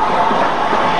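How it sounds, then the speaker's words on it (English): A former GWR Hall steam locomotive rolls past in a brief, loud, steady rush of rail and running noise, close by and with no voices. "This is a former GWR Hall locomotive."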